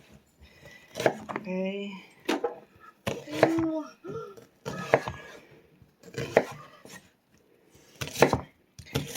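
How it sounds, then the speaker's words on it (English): A knife chops white onion on a cutting board for hibachi vegetables, with a few sharp, separate chops between stretches of close, steady talking. "Cut some onion."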